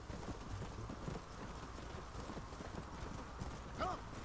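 Hooves clip-clop steadily as a horse gallops in the Red Dead Redemption video game, a rapid rhythmic beat with a brief whinny near the end and no clear speech.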